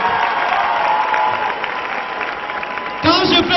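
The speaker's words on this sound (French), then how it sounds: "Si c'est bon, applaudissez très fort." Studio audience at a French comedy show bursts into loud applause near the end, following a steady murmur of crowd noise and voices.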